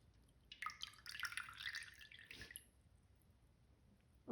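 A chicken piece dipped into a bowl of chilled water gives a short, close burst of splashing and trickling drips lasting about two seconds, then fades to near silence before a small final splash.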